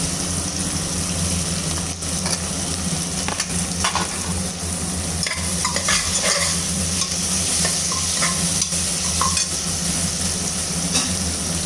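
Ginger garlic paste fries in hot oil for chicken biryani, a steady sizzle with scraping stirs of a spoon in the pot, heard up close over a constant low hum with no talking.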